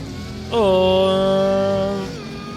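A Bugatti Chiron in the Roblox game Driving Empire lets out a brief, strongly tonal engine note that jumps up sharply, holds a steady pitch for about a second and a half, then drops away.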